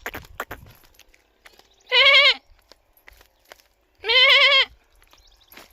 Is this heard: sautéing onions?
no